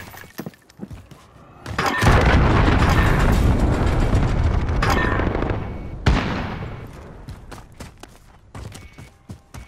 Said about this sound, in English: Enemy cruise missile is coming.